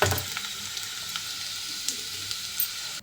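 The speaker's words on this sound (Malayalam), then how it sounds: "വെണ്ടയ്ക്കയൊക്കെ നല്ലതുപോലെ ഉൾവശവും പുറം ഭാഗമൊക്കെ മൂത്ത് വന്നിട്ടുണ്ട് എണ്ണയൊക്കെ തെളിഞ്ഞു വന്നിട്ടുണ്ട്" Okra frying in hot oil gives a dense, continuous close sizzle that holds steady for about three seconds before cutting off abruptly.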